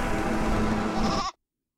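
A goat in a video game lets out a loud, close, wavering bleat that breaks off abruptly into silence.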